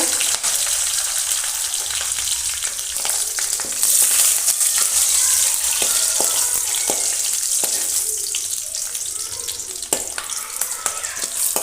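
Hot oil sizzles steadily as cloves, a cinnamon stick and fennel seeds fry in it, with scattered crackles and pops throughout, loud and close.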